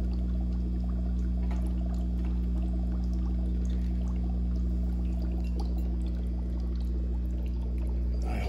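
Gold-plated parts, freshly coated in 24 karat gold, are rinsed in water, giving a steady continuous pouring and trickling wash with a constant low hum beneath it, close and unbroken throughout.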